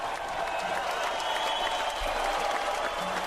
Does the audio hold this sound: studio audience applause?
yes